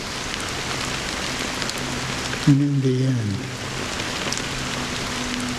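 Steady rain falls in the video game Honkai Star Rail, a constant soft hiss of drops on a surface running throughout, with a voice speaking briefly over it and a low musical tone swelling in the middle.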